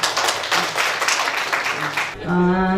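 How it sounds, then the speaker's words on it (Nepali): Applause from an audience at an annual general meeting, a dense burst of clapping that ends abruptly and gives way to a voice. "यहाँ हजुरहरूलाई मन्जुर छ भने ताली बजाएर यसलाई पनि पारित गर्नु"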